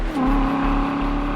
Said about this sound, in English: Our touring technology gives you a low volume rumble that's slightly louder than stock under idle and cruise, but really wakes up when you squeeze the throttle